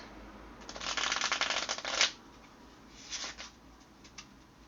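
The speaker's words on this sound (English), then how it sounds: "I'm just going to cut the deck and pick out 2 cards from the top." A deck of playing cards being shuffled and cut: a dense burst of riffling ends in a sharp snap, followed by a lighter flutter and a few soft taps, close and fairly quiet.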